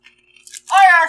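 A single loud crunching bite into a crunchy Canadian chocolate bar, brittle and close, preceded by a few faint small sounds.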